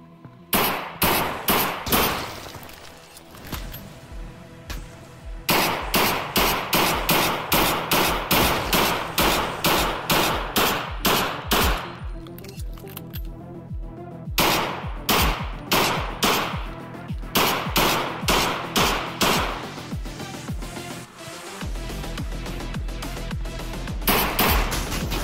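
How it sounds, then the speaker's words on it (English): Rapid bursts of gunfire in Half-Life: Alyx rattle almost without pause for the whole stretch, loud and close, aimed at the player, with brief lulls before the shooting resumes. "getting shot at here"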